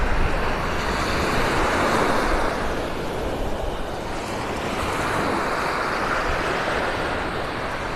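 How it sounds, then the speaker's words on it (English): Surf rolls onto Vanderbilt Beach in North Naples, Florida, a loud continuous wash of breaking waves with steady wind noise and no voices. "Vanderbilt Beach in North Naples, Florida."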